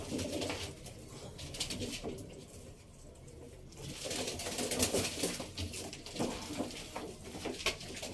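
Pigeons coo softly in a loose, repeated rhythm amid faint rustling and clatter, fairly quiet and close by.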